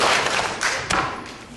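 A round of applause at a community meeting fades out after a few louder claps, the clapping thinning and dropping in level over a second and a half.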